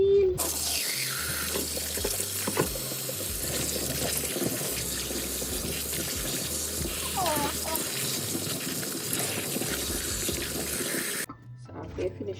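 Running tap water gushes steadily into a sink while potatoes are washed for a creamy potato salad, with occasional clatter and handling sounds under the flow before it cuts off near the end.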